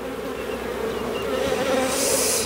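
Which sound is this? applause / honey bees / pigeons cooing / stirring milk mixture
honey bees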